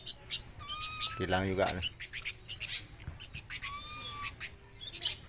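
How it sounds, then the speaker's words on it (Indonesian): A zebra dove (perkutut) gives a rhythmic series of low cooing notes near the start, among higher chirps from other birds, while a person speaks. "burung perkutut ini belum bisa kita odor"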